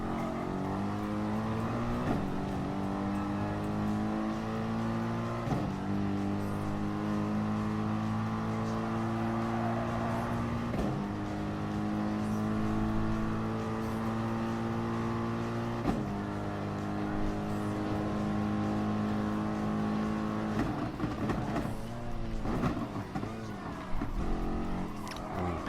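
A BMW M3 race car engine in the Gran Turismo Sport video game, a steady moderate drone whose pitch climbs through each gear and drops at the shifts, repeating over several upshifts with tire and track noise underneath.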